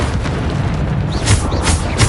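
Bombarda explosion spells from a video game spell duel go off in a string of deep, rumbling booms, with several blasts crowding closely together over a couple of seconds.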